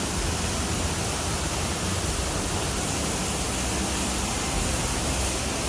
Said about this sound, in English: we wanted to go to a waterfall